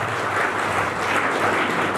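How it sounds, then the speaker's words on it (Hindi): Loud, dense applause from an audience at a school celebration of RBSE 12th results, steady clapping filling the whole stretch without a break. "सबसे ज्यादा जोरदार तालियां आपने की इसके साथ में।"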